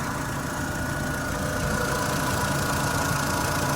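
A 2002 Mini Cooper engine idles steadily and evenly, a continuous close-up rumble with no talking.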